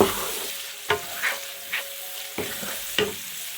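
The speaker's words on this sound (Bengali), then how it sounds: "মশলাটা কষিয়ে খুব ভালো করে" Spices and vegetables sauté in a pan for rice noodles, with a soft, steady sizzle punctuated by about five sharp stirring scrapes and taps of a utensil, close and without speech.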